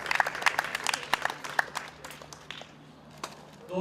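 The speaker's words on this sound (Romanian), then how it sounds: "Aplauze pentru Fanny Stolar, câștigătoarea turneului Cupa Municipiului Galați." Scattered applause from a modest crowd at a tennis tournament prize ceremony in Galați, distinct claps at first, thinning and fading toward the end.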